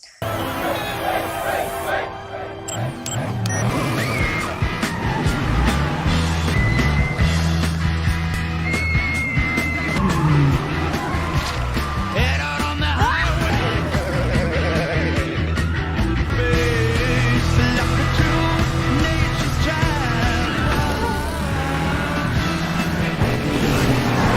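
Cars race in a scene from Herbie Fully Loaded (2005): dense engine roar and crowd yells mixed with music, loud and continuous, with voices speaking over it.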